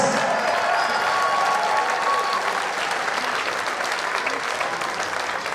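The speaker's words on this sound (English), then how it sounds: "Keep those applause going, ladies and gentlemen." Steady, dense applause from the audience at a 2019 wheelchair rugby league match between New South Wales and Queensland, sustained and fairly loud for the whole stretch as players are brought out, with a faint tone and voice in the background.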